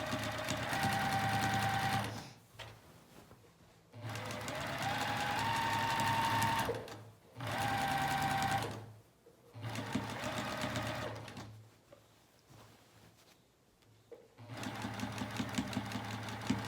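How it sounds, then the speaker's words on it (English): A domestic sewing machine runs in several long bursts, stitching back over a pajama pant seam, with short pauses between runs; a steady, fairly loud mechanical hum close by. "we're just gonna stitch over it, same exact place, the whole seam"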